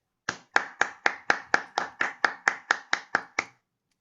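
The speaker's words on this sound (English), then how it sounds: "Everybody, please give Nur Ain a very big round of applause" A single person claps thirteen evenly spaced times in a steady rhythm, close and clear against silence, as applause for a top student in a presentation skills course.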